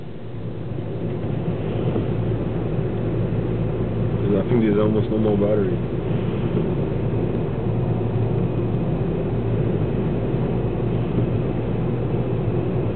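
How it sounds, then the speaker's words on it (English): Arizona dust storm wind roaring around a car, a loud, steady broadband rumble that fills the whole stretch while a person speaks briefly over it from inside. "Well, we're here in the dust storm."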